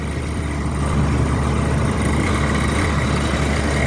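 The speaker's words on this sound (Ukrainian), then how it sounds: "Працює компресор." An air compressor drones loudly and continuously at a well-drilling site in granite, a dense low-pitched engine rumble with no break, close up.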